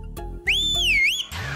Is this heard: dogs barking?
no